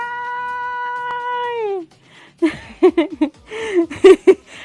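A person imitates a cat, giving a long sustained vocal meow, then a pause followed by a run of short, chuckling, meow-like voiced bursts, close and fairly loud.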